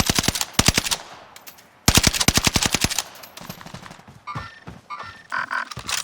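Rapid bursts of automatic fire from a KG M40 rifle in Call of Duty: Warzone, sharp and close, in two long strings followed by scattered shots and game effects.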